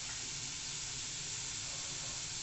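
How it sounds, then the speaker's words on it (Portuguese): Water gushing at strong pressure from an opened faucet into a sink fitted with a newly installed flexible accordion drain trap, a steady broadband rush throughout, close and alone. "Abre a torneira."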